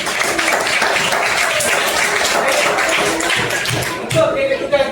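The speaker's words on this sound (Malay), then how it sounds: "Bagi tepukan kepada diri." A classroom of students in a history lesson claps for themselves: a loud burst of many hands clapping for about four seconds, then it stops abruptly and a few faint sounds follow.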